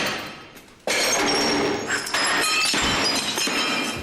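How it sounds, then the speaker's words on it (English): A historic porcelain toilet is smashed during a rage scene in a film: a sudden loud crash, a brief scatter of breaking pieces, then a second heavy impact with more clattering fragments. "accidentally shatters a historic porcelain toilet during a fit of rage in The Master"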